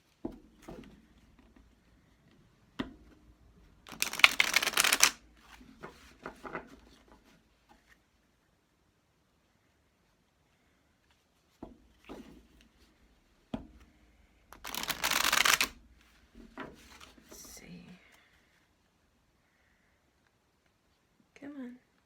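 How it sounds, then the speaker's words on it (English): Shuffling of a Dragon Fae oracle card deck, a large-card deck handled with some difficulty: two bursts of riffling cards, each a second or so long, with softer handling noises between them. "This is a harder deck for me to shuffle"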